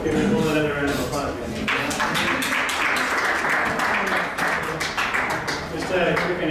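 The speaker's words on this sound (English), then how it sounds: "Give Nicole another round of applause." An audience gives a speaker a sustained round of applause at a liberty-themed talk, dense loud clapping filling the whole stretch with a few voices underneath.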